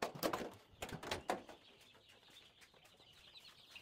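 Guinea fowl chicks at a poultry hatchery farm give a quick cluster of high, sharp peeping calls in the first second or so, then fade to faint, scattered chirps over a soft background hiss.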